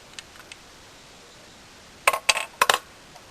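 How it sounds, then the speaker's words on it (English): Small metal screws clink against each other and a hard surface while handlebar parts come off a 2006 Harley-Davidson Dyna Wide Glide, a few faint ticks followed by a close cluster of bright, sharp metallic clinks. "Just start to remove these screws"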